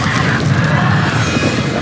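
Bombarda blasting spell in Hogwarts Legacy, a dense, loud explosive roar that holds steady over the full stretch, crowded by other game effects.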